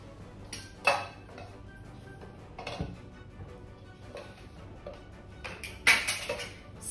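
A spoon mixing fresh coriander into a mixed vegetable gravy, Tamil kara kuzhambu, in a metal pot: sparse clinks and knocks against the rim, two sharper taps standing out, quiet and close with no talk.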